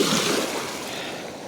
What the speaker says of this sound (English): the waves right on my foot